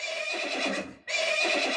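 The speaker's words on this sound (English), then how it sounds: "We got the little horse, the baby horse." Two bright, high-pitched whinnies from a small horse, each about a second long with a brief break between them, loud and close.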